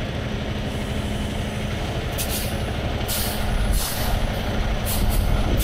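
Sharp bursts of air brake hiss from a nearby truck, several releases spaced over a steady engine rumble.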